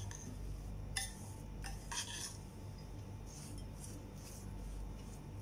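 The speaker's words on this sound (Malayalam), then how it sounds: "നല്ലതുപോലെ നമുക്കിതൊന്ന് മിക്സ് ചെയ്തെടുക്കാം കേട്ടോ." Semolina idli batter with curd stirred in a bowl, a spoon scraping and clinking against the sides in a few bright strokes over a steady low background hum.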